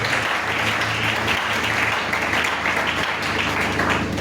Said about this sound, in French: Est-ce que tu peux acclamer pour le Seigneur?